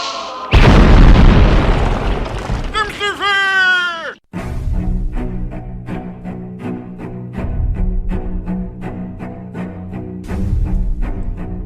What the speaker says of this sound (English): bring up the holy hand grenade.